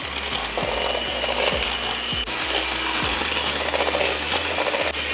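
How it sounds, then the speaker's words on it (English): Electric mixer breaking cooked squash into chunks, a steady loud whir with repeated low thumps and rattles as the beaters knock through the food. "I'm going to mix it up with the mixer and see if I can't break it into nice little chunks"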